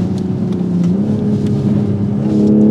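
A new Toyota Supra in sport mode with the sport exhaust setting, its engine giving a loud, close, steady rumble that climbs slightly in pitch, with no talk.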